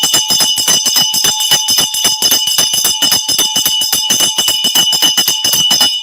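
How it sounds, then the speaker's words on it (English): A bell rings rapidly and continuously, a loud metallic rhythmic clanging with bright ringing overtones that persist between strikes, alone without talk. "I ring my bell for y'all."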